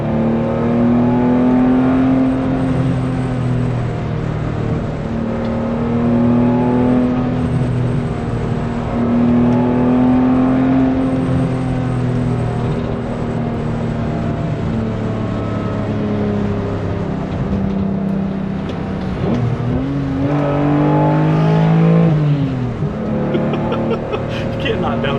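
A 1988 BMW E28 M5 engine pulls hard while driving uphill, a loud, steady inline-six drone whose pitch climbs and shifts as gears change, with a sharp break and swell near the end.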